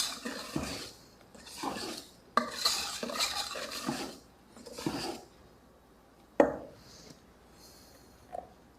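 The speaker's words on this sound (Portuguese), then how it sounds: "Mexendo com carinho a nossa massa, nas laterais e no meio." A spoon stirring cake batter around the sides and middle of a bowl for cakes made in small pots, in scraping, swishing strokes with pauses between them, close and fairly quiet, with no talking.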